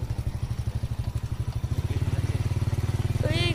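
A motorcycle engine throbs steadily as the bike rides along a forest road, its fast, even pulsing close and loud and building slightly in pace, with no one talking.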